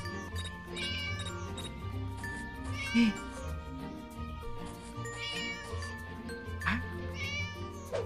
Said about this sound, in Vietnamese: Ôi. Con mèo.